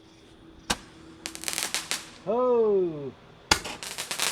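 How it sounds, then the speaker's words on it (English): A tin ball crackling candle firework fires outdoors near grass: sharp crackling pops burst in clusters, a whistling tone rises and falls in the middle, and more crackle follows, with a brief exclamation from a nearby voice. "Tin ball crackling candle."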